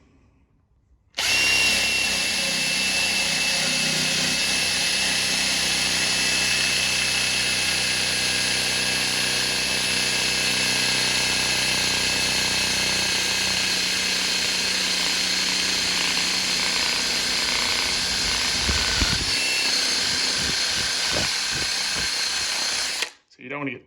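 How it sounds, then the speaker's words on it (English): A wire wheel spun by a power drill grinds loudly and without a break, removing rust from a raw FMF two-stroke exhaust pipe on a Yamaha YZ250. The sound starts abruptly, carries on for about twenty seconds and then stops. "the wire wheel, it is actually removing material from the pipe"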